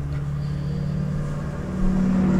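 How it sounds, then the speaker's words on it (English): A loud car passes nearby, its deep engine rumble holding steady before it swells and grows louder toward the end, with no talking. "There goes a really loud car."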